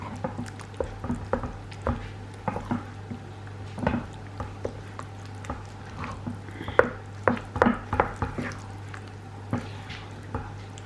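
Batter for curry loaf baked oats being stirred in a bowl, a series of soft wet squishes and clicks in an irregular rhythm, close and fairly quiet over a steady low hum.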